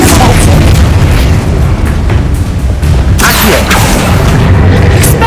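Explosion spells cast in the Hogwarts Legacy video game: repeated heavy booms and crackling blasts, loud and dense throughout, with sharp bursts near the middle and end over a constant rumbling din.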